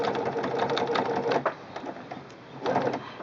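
A Singer Quantum Stylist 9960 sewing machine stitches sequin trim with a steady, close, continuous mechanical whir that pauses briefly around the middle and then resumes, with no talking.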